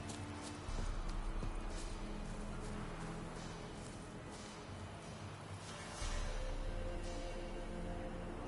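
Hooves of the horse Roach clop at a steady walking pace in The Witcher video game, alongside a low ambient bed of game background sound, with no talking.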